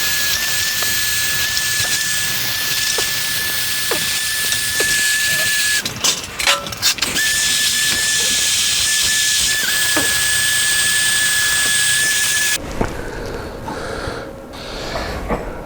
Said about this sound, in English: First step is I got to wire wheel this up. It's pretty rusted, so it won't weld well